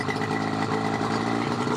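A 1990 Yamaha Mariner CV30 30hp outboard engine runs at raised revs, a steady, dense mechanical drone held close and loud with no speech over it.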